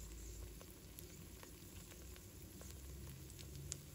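Oyster and egg pancake frying gently in a pan on low heat, giving a faint, steady sizzle and soft crackle that stays even throughout with no voices.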